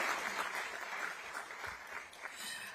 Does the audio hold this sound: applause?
yes